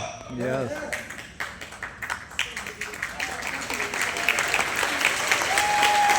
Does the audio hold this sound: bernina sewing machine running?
no